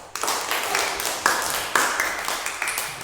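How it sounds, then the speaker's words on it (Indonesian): Classroom applause for a student group: a steady patter of hand claps from several people, fairly close and moderately loud, with a few sharper individual claps standing out and faint voices mixed in. "mari kita berikan tepuk tangan untuk kelompok 2"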